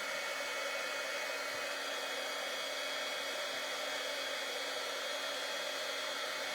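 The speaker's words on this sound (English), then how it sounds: "I'm just going to go over and use my heat tool so it's not so loud over here" A heat tool heating embossing powder gives off a steady, even blowing roar like a hair dryer, unbroken throughout and fairly quiet.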